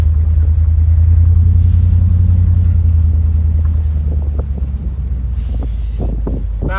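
A 2000 Chevrolet C3500 truck with a 7.4 liter Vortec engine roars loudly at high revs, then winds down to a lower rumble, with wind buffeting the microphone.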